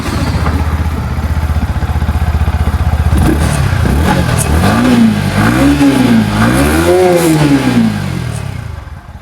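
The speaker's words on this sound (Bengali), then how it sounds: "আমি গাড়িটা স্টার্ট দিয়ে আপনাদের একটু শুনিয়ে দিই" A Yamaha MT-15 155 cc fuel-injected motorcycle idles with a rapid chugging putter after a self-start, then revs up and down several times in loud, rising-and-falling swells before easing off.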